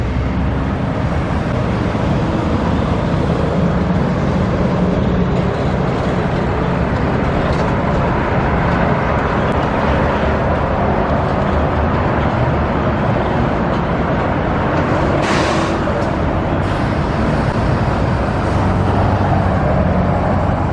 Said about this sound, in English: This is a busy intersection. A lot of stuff driving in through here.